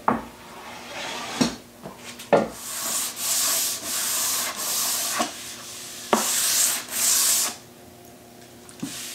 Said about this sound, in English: I'm just going to clean it up with a hand plane and do some light sanding